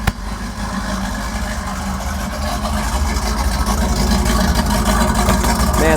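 A 1969 Pontiac Firebird 400 convertible's V8 idles steadily after a sharp start at the beginning, a loud, close, rumbling engine note that grows slightly fuller over the clip with no talking.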